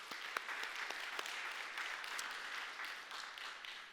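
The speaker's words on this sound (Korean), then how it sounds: "하나님께 영광의 박수." A church congregation breaks into applause, a dense, steady wash of many hands clapping at moderate distance throughout, with a few sharper claps standing out and faint voices mixed in.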